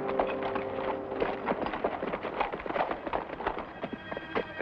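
Horse hooves clip-clopping steadily in a 1950s TV western scene, a close, busy rhythm of hoofbeats with a neigh and no talk.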